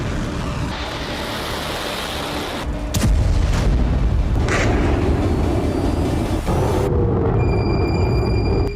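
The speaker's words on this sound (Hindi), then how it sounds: "रॉकेट से धमाका हुआ।" A long-range rocket explosion in Ramallah in the West Bank: a heavy boom lands about a third of the way in and swells into a loud, sustained rumbling roar that persists to the end, with no talking.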